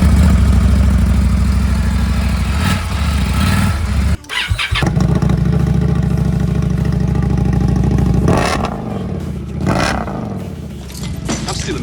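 An Indian Scout 101 motorcycle with a TAB Zombie exhaust rumbles loudly up close, idling deep and steady, briefly cutting out, then blipping into several throaty revs.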